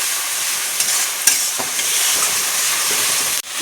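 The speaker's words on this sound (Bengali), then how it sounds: "মশলাটা কষানো হয়ে গেছে, তেল ছেড়ে দিচ্ছে।" Chili and ginger paste fries in hot oil for a fish curry, giving a loud, steady sizzle with a few sharp scrapes and clicks as it is stirred, then a brief dip near the end.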